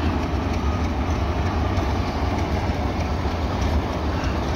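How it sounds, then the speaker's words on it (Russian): Diesel locomotive rolling past on a snowy day, a steady close rumble with constant low engine drone and rail noise throughout. "Тепловоз тут такой едет."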